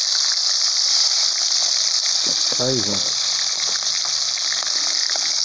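Seasoned fish sizzling in hot oil in a frying pan while cooking fried fish, a loud continuous crackle and hiss, with someone speaking briefly over it.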